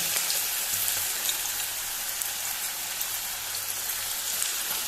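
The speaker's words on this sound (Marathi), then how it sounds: "हांवें थोडेंच तेल घातलां, हांव चारूच घालून हे पळय भाजता आतां ते." Okra pieces fry in a small amount of oil in a Goan-style crispy bhindi fry, making a steady, close, dense crackling sizzle that stays even from start to finish with no voices.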